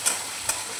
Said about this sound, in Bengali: এবারে পেঁয়াজ কুচিগুলো একটু লাল লাল করে ভেজে নেব।